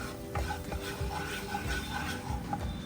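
Butter and flour being stirred together in a pan over a low flame for a white sauce, a steady scraping, swishing stir with faint sizzling, continuous and close, no voices.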